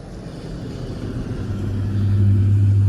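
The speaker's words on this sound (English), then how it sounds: "Here comes a school truck." A school truck approaches on the road, its low engine rumble and droning hum growing steadily louder and closer over a few seconds.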